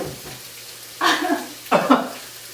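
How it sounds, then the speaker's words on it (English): Sausage sizzling in a frying pan for a weeknight sausage dinner, with two short loud bursts of crackling hiss rising over a quiet background. "he's cooking the sausage"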